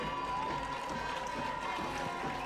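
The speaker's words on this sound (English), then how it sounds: "Cheerleaders perform a cheer in honor of our special guest tonight" High school football game crowd noise from a Pennsbury Falcons home game against Northampton: a steady wash of cheering and shouting from the stands, continuous and fairly loud with no clear break.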